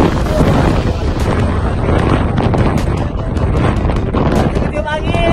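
Strong wind blows outdoors in Korea, a loud continuous roar buffeting the microphone with rough gusty rumble throughout, with brief sharp clatters over it.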